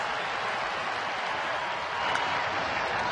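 A sold-out crowd at a Phillies baseball game makes a broad, steady roar of murmur and cheering that fills the space evenly and swells slightly near the end, with a commentator's voice over it.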